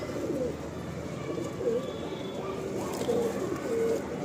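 Low pigeon coos come in a few short, separate phrases from birds kept in a loft, moderately near, over a constant hum of other bird calls and faint background murmur.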